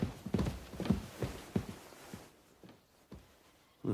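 Horse hooves clip-clop steadily in Kingdom Come: Deliverance 2, a close, regular walking rhythm of distinct hoof strikes that thins out and slows toward the end.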